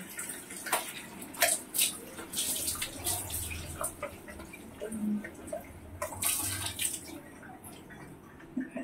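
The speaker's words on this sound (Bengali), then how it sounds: "তো দেখো এখন আমি ধুয়ে দিচ্ছি, তারপর আরেকবার লাগাবো।" Running water splashes and patters continuously as shampoo is rinsed out of hair, with irregular louder gushes and splatters close by. Faint background noise sits underneath.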